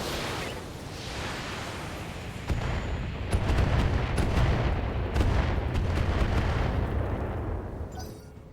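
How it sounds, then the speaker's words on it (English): Heavy mech weapons fire in the BattleTech game, with a sustained roar of booming explosions and artillery-like blasts that swells louder partway through, dense and continuous without talk. "Locking in all weapons systems."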